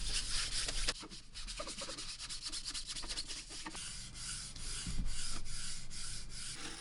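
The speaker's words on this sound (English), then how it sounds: "Next, I applied a few coats of mold release wax." Mold release wax is rubbed onto a 3D printed mold, a steady close, soft scuffing and rubbing with faint strokes throughout.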